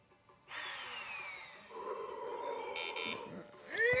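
A harsh, buzzing video game chainsaw engine drone revs and shifts pitch over several seconds, with electronic beeps layered in, loud and continuous.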